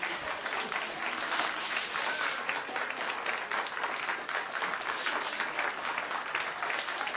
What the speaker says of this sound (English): Save your applause till the end.